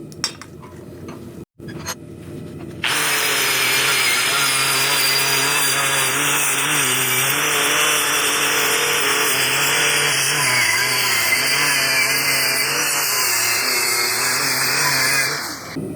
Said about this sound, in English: I'm going to be wire wheeling just the back.